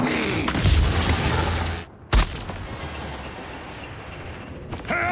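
Loud booming gunfire from an enemy sniper in a shooter video game, heavy blasts at the start with a sharp shot near the middle and another burst at the end.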